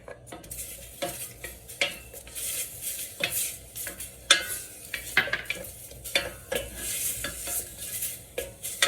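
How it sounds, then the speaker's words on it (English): Chopped onions frying in a small piece of butter for tomato soup, stirred busily with a utensil scraping and clinking against the pan over a steady sizzle, heard up close. "Add your onions, chopped onions."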